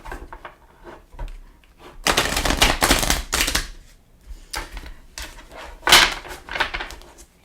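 A deck of cards is shuffled quickly in two loud, crisp riffling bursts close by, with softer handling clicks and shuffling between them and no talking.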